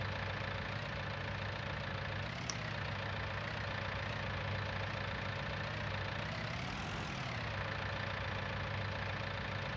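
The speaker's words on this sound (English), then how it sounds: "Luckily this is a 4-wheel drive tractor." A 4-wheel drive tractor engine runs at a steady idle the whole time, close and loud. Its drone holds constant with a slight rise around the seventh second.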